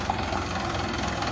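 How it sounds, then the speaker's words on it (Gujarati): A tractor engine rumbles steadily nearby on a village road, a continuous low throbbing hum with no clear change in loudness over the short moment. "સામેથી આવે ટ્રેક્ટર"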